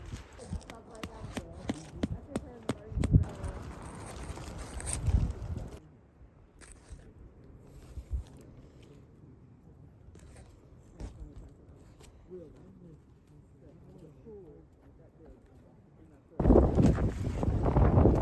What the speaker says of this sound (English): this wind tonight is gonna be outrageous